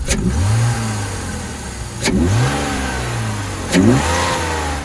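A BMW E46 320Ci with an M54 engine and a Simota open air filter revs three times in quick succession, each blip rising sharply then falling back toward idle, loud and close with no talk.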